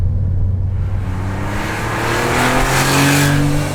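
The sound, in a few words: Porsche 911 Carrera 2.7 RS engine revving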